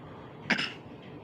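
A 13-month-old toddler imitates a grandfather's cough with one short, sharp cough-like burst from a quiet room.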